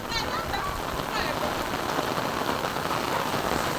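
Rain coming down in a steady, dense wash of pattering drops on nearby surfaces, constant and fairly soft, with faint bird-like chirps early on.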